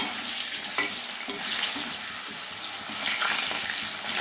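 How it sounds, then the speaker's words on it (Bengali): Potatoes frying in hot oil over a medium gas flame make a continuous close sizzle, with soft scraping and knocking from stirring scattered throughout. "এবারে আলুগুলো ভেজে নিচ্ছি"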